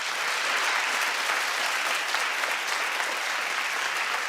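Studio audience applause, a sustained, evenly loud roar of many hands clapping at once, continuous for the whole stretch.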